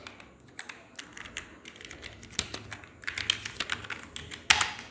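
Typing on a computer keyboard, a steady run of quick clicky keystrokes close by, entering a search into a browser, with a denser, louder burst of taps toward the end and no talking.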